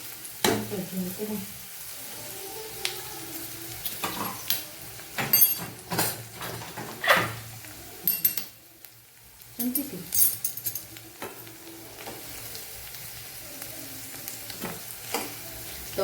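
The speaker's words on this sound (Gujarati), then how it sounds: "બસ આવો ભીંડો આપણે સાતડી લેવાનો" Okra sautéing in oil in a pan for a Kathiyawadi-style okra gravy curry, with a soft sizzle beneath irregular scraping and clinking stirs. A brief quiet gap comes midway.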